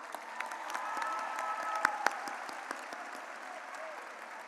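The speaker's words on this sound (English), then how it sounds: "Please join us in giving Raymond yet another round of applause." Steady applause from a graduation ceremony audience at a high school, moderately distant, with a couple of sharper claps standing out briefly mid-way.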